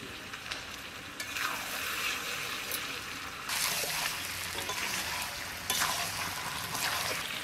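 Mutton pieces frying and being stirred with salt and turmeric, a steady sizzle with scraping stirs swelling in bursts throughout, close and fairly loud, no talking.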